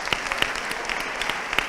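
Scattered audience clapping at a talk on media and political power, a handful of distinct, spaced claps from a few people rather than a full ovation, fairly quiet overall.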